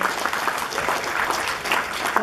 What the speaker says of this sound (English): Let's give Julia a huge round of applause.